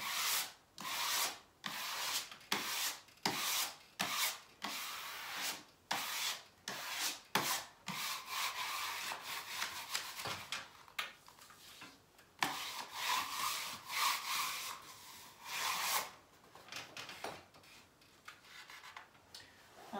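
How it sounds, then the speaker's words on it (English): A spatula smooths wallpaper onto a wall in repeated scraping strokes, rhythmic brushing sweeps with short gaps between them, close and fairly quiet. "just use a wee spatula and smooth it out"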